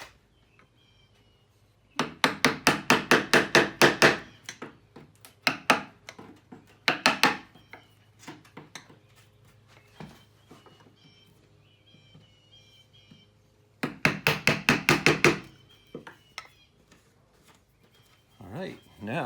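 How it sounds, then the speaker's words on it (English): A wood chisel strikes and scrapes at a nib inside a slot in cast iron, giving two loud bursts of rapid, rhythmic tapping with quieter scraping between them. "So I'm just going to do that with a wood chisel."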